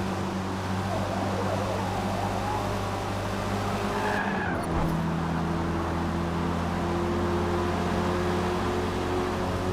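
A race car in Forza Motorsport rams another car and skids, a steady engine drone with tire squeal and a brief impact thump midway, then the engine hum continuing.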